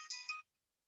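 A phone ringtone plays a short, bright, tonal chirp of two quick pulses, clear and close, then cuts off into silence.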